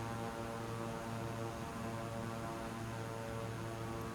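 Beechcraft King Air 200 propeller plane in Scrap Mechanic, its engines producing a constant droning hum with steady tonal buzz as it prepares for takeoff, unbroken and moderately loud.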